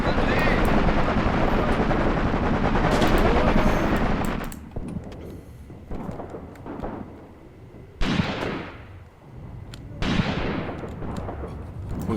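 Sustained WW2 battle noise from the Graviteam Tactics game: dense machine-gun and artillery fire, loud and continuous at first, then sparser bursts and booming impacts breaking out at intervals, with a low rumble underneath.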